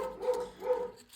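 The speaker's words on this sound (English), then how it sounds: "She will not stop barking now until" A dog gives two quick barks one after another at a delivery driver outside, close and fairly loud, with no talking over them.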